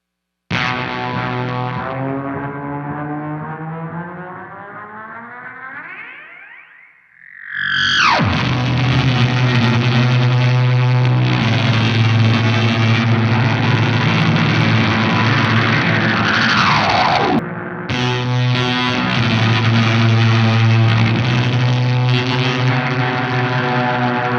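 Electric guitar played through an Ibanez delay, Mr. Black Mini Reverb, NRG Effects Mauler Fuzz and Fidelity Double: a sustained, swooping echoed note gives way to a loud, saturated fuzz drone that cuts out briefly and resumes, with no talk.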